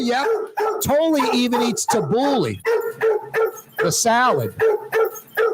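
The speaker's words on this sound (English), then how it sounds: "That's Blue Boy barking" Dog named Blue Boy barking and yipping outside Lebanon's Cafe in New Orleans, mixed with a person talking over it, barks overlapping the voice at close range.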